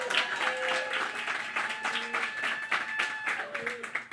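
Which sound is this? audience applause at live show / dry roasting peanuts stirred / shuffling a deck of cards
audience applause at live show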